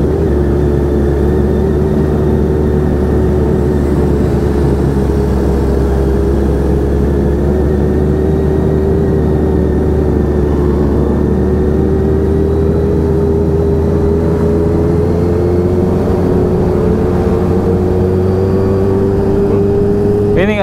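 Motorcycle engine accelerating during a Sunday-morning group ride in Lampung, a steady, loud low drone with a rising engine note held throughout, wind and road roar under it and no clear talk.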